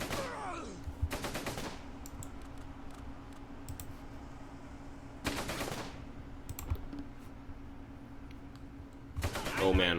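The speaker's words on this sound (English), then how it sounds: "Enemy machine gun's already starting to fire." Enemy machine gun fire in the WWII tactical game Close Combat: Gateway to Caen, three loud rattling bursts spaced several seconds apart over a steady low battlefield hum.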